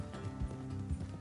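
Horse hooves clip-clop in a quick, steady rhythm of dull thuds in the video game Red Dead Redemption II, close by, with a low rumbling background.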